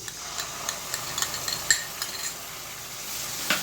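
Sour curd being stirred into Katla fish masala in a pan, with a soft scraping stir, light spoon taps and a low sizzle, several brief clinks scattered through.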